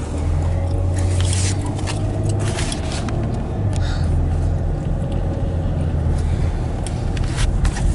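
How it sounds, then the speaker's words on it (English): Steady road traffic rumbles near a state capitol in Orlando-area streets, a continuous low engine drone with passing vehicles, fairly close and constant throughout. "There's a lot of traffic."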